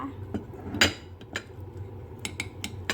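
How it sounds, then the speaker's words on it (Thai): Thai curry paste stir-fried in oil in a pan for a pork curry with mushrooms and nuts: a spatula clinks and scrapes against the pan in irregular knocks, fairly close and fairly quiet, with a little speech. "เอาพริกแกงลงไปผัดก่อนนะคะ"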